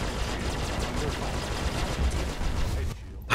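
Spaceship weapons fire hammering against shields in Star Citizen, a dense, loud barrage of rumbling impacts and crackling bursts that cuts off abruptly near the end.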